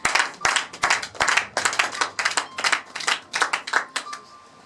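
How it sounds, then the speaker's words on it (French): Worshippers in a church service clap along in an energetic, uneven rhythm to acclaim the Lord, close and loud, a dense run of sharp claps with a few faint voices mixed in. "Est-ce que quelqu'un peut acclamer le Seigneur?"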